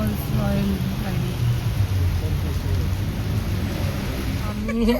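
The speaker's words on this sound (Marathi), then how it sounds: "पण आता खूप पाऊस आहे" Heavy rain with thunder around a car stuck in traffic in Lonavala: a steady, close wash of rain noise with a deep underlying rumble that continues unbroken throughout.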